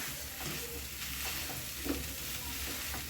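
Peas and boiled potato stirred into a hot oil tempering, a steady low sizzle with soft scraping stir strokes and a few light clicks of the spoon, close and alone with no voices.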